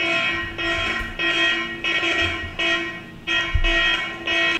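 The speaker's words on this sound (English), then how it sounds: "See, alarm is ringing." An anti-theft phone app alarm rings from a phone speaker in repeated loud electronic buzzing pulses, about one per half second. The rhythm is steady and close, with light handling knocks between pulses.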